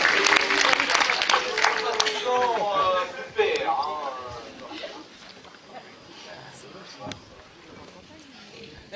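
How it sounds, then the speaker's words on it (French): An audience in a cinema hall at a film premiere applauds, the clapping dense at first and then thinning out and fading, while people talk over it. "Vous pouvez l'applaudir, Hervé."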